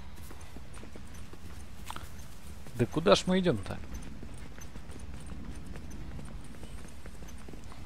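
Horse hooves clip-clop briefly in The Last of Us: Left Behind, a short cluster of hoofbeats under speech amid a quiet ambient background.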